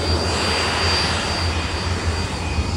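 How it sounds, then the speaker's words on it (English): Steady loud roar of a jet aircraft powered by Bristol Siddeley Orpheus engines flying overhead at an airshow, a continuous broadband rush with no talk. "listen to these Bristol Orpheus engines. Bristol Siddeley Orpheus engines."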